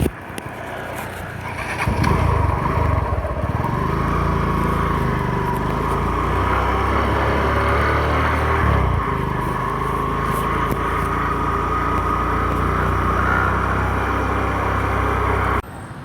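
Classic BSA motorbike engines rumble continuously on a town street in Siantar, North Sumatra, a steady loud traffic drone that starts after about two seconds and holds evenly before cutting off near the end.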